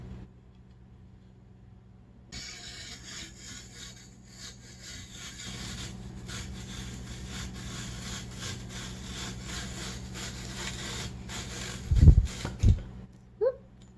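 A 19th-century-style antique apple parer peels an apple with a steady rasping, scraping whir as the crank turns, fairly close, ending with a few low thumps and a brief squeak.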